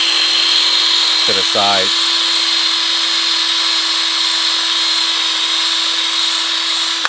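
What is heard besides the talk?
drilling out a broken bolt with a drill bit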